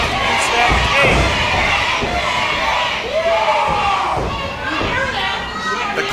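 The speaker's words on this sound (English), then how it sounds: "The crowd already getting under JMM's skin." A wrestling arena crowd at a PCW Limelight independent wrestling show jeers loudly and steadily, a dense roar of shouts and calls that swells and dips without a break over the whole stretch.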